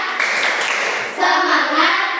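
A classroom of children claps together in a quick, steady spirit-clap pattern, close and fairly loud, with a few young voices mixed in.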